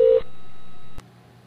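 A flash soft phone in a web browser places a call, giving a brief dialing tone burst followed by a steady tone, then a click and quiet line.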